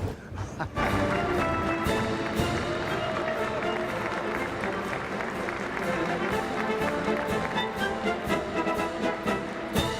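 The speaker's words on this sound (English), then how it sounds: "Now I'm hearing his footsteps." Footsteps during live coverage of a 2025 presidential inauguration, a steady patter of steps blended into a busy crowd bed with voices talking over it.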